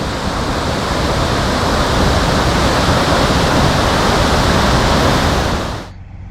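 Gaslabu Ella, a waterfall roughly 70 metres high, roars in a steady, loud, close wash of falling water that holds constant before cutting off abruptly near the end.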